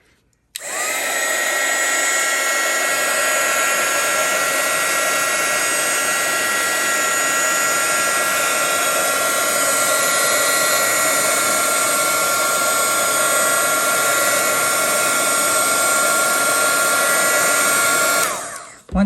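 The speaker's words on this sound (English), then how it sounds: "And our heat gun has 2 dual speeds on it." A dual-speed heat gun blows steadily while heating craft foam, a loud, even whooshing roar that starts abruptly, holds for about eighteen seconds with no talk, then cuts off.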